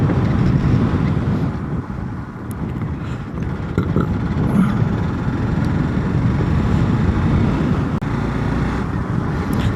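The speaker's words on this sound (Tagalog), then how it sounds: "Hangin, grabe." Strong wind in Dubai buffets the microphone in a steady, loud low roar, with traffic rumbling beneath it and no talking.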